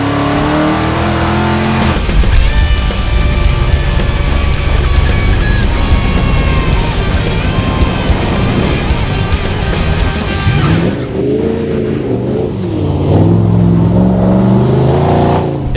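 A 1968 Dodge Charger's V8 roars loudly and continuously, climbing through sustained revs with a harsh, rumbling exhaust, then dropping briefly before surging again, heard from close by.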